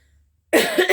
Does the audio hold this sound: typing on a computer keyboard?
no